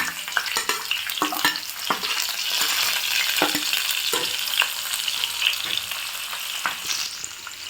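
Garlic, green chili and nigella seeds sizzle in hot oil just after the gas flame is switched off, for an orange peel pickle. A steady, crackling fry runs throughout, with sharp clicks of stirring and no talking.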